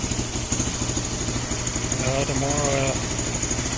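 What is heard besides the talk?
Lifan KPX 250 motorcycle engine idling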